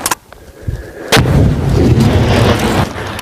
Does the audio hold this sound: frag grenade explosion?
yes